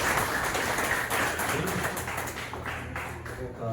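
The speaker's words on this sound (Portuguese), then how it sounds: "Uma salva de palmas para o Senhor" Applause from a congregation during a healing and deliverance church service, a dense wash of clapping that gradually thins and fades out.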